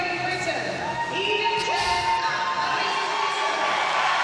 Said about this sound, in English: Big cheer for the host nation